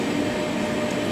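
Intercity train at Magdeburg main station gives a steady low rumble and hum, continuous and fairly loud throughout with no voices.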